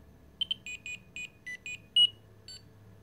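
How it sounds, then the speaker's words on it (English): A homemade Arduino-based pager plays a Mario ringtone as a rapid string of bright electronic beeps, about nine short tones in a quick melodic rhythm over faint background hum. "And it comes with Mario ringtones."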